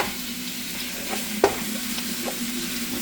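Ground meat and cooked rice sizzle in a hot pan while a utensil scrapes and stirs through them, with one sharp clack against the pan midway, close and steady, with no talking.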